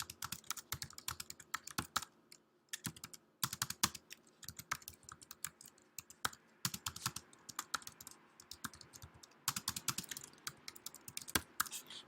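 Typing on a computer keyboard in bursts of quick, crisp keystrokes separated by short pauses, close and fairly quiet.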